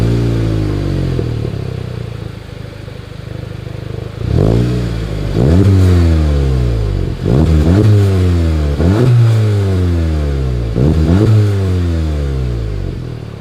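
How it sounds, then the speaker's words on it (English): A 2021 Volkswagen Golf GTI exhaust heard up close as the engine idles, then blips in a series of sharp, repeated revs that rise and fall in quick succession, loud and with no talking. "As always, here is that exhaust clip."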